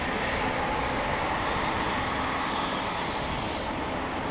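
Embraer E2 airliner lining up on the runway at Amsterdam Schiphol Airport, a steady, broad jet engine roar heard from a distance, continuous and unchanging throughout.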